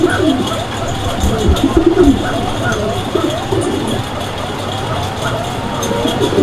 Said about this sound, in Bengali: কিন্তু কবুতরের মতো ডাকে না, ডাকে বাঁশির মতো। এটাকে বাঁশিরাজ কোকা বলে